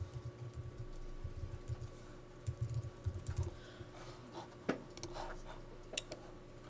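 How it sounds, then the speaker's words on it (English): Close, soft typing on a computer keyboard while text is entered in Adobe Illustrator CS6, irregular clusters of keystrokes and a few sharper clicks over a steady low background hum. "Click outside here and type Merlot."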